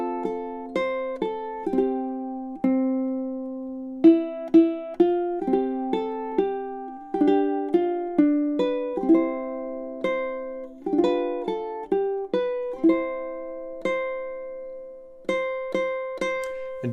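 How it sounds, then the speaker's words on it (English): Solo ukulele plays a chord melody through a song verse, plucked notes and strummed chords in a steady, gentle rhythm, close and clear with no talking. "it should sound something like this when we go all the way through"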